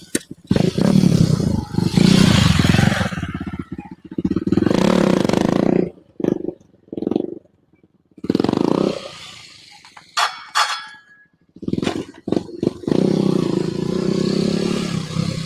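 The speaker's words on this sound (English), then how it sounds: "I know y'all heard that scrape." A motorcycle at a stunt spot roars through loud bursts of engine noise broken by short gaps, with a harsh scraping clatter as it drags along the ground, close and loud throughout.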